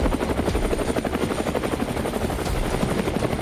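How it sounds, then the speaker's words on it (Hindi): Police helicopters fly nearby, a loud, continuous rhythmic rotor chop with a steady engine whine filling the whole stretch, no voices over it. "यह तो हेलीकॉप्टर की आवाज है।"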